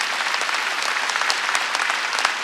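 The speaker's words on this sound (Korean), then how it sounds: "박수 치려면 세게 치라고." Sunday-service congregation at a Korean church clapping loudly and continuously, a thick, even roar of applause with sharp individual claps standing out, no speech.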